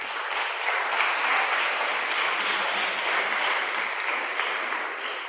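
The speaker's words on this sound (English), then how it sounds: "Please, one applause to the Ambassador of Lithuania." A conference audience applauds the Ambassador of Lithuania at a hate speech and fake news event, giving a steady, even wash of clapping heard from a distance and sustained throughout.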